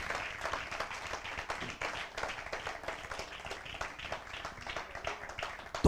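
A church congregation claps together in sustained applause, a dense steady patter of many hands filling the room for several seconds without pause.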